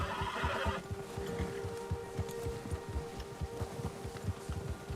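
A horse in Red Dead Redemption 2 gives a loud, close whinny at the start, then steady hoof clip-clops and soft thuds keep a rhythm through the rest.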